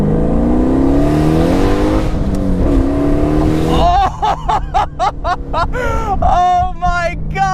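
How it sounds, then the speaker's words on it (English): Heavily modified 700 horsepower Pontiac Solstice accelerating hard on a straightaway with nitrous engaged, a loud continuous engine roar that climbs in pitch, then rapid gear-change surges with sharp rising bursts; people talk over the noise. "let's activate it once we get onto the straightaway and see what 700 horsepower in a fucking Pontiac Slowstice feels like"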